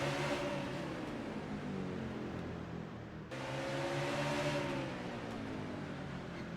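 A NASCAR stock car engine at Martinsville in a racing video game drones steadily at high revs through a turn, loud and continuous with a brief dip partway before the roar resumes.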